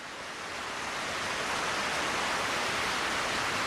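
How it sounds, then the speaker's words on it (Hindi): A rush of water suddenly gushing out in a cartoon, a loud continuous broadband roar that swells and holds steady with no talk. "अरे पानी।"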